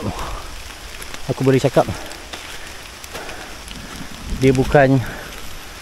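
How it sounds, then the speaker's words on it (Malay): Steady rain falls on a Malaysian jungle hiking trail toward Damai Waterfall, a soft broadband hiss running throughout beneath someone talking. "Jadinya dalam keadaan hujan sekarang ni"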